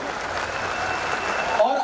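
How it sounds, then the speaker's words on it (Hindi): Applause at a Hindi poetry gathering (kavi sammelan): a steady wash of crowd clapping running throughout the short clip and cutting off sharply at the end. "तालियां बड़ी बजनी चाहिए आपकी।"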